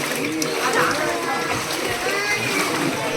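Water splashes and sloshes steadily inside the Moodugallu Keshavanatheshwara cave temple near Kundapura, a continuous close wet churning with faint voices murmuring in the background.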